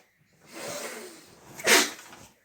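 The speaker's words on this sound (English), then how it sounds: "She sneezed." A woman gives a single sharp sneeze close to the microphone indoors, preceded by a brief breathy inhale as she winds up.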